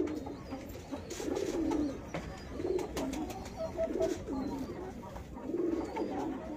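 A female high-flying pigeon of medium build coos in about five repeated rounded phrases, close and clear, with scattered clicks and low background rumble between them.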